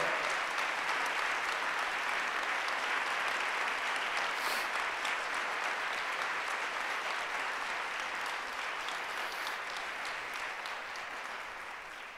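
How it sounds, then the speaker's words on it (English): Child care award winners at an early learning summit receive a long, steady round of audience applause, dense and sustained for about twelve seconds and tapering slightly at the end. "Let's give one big final round of applause for these child care pros in United Way."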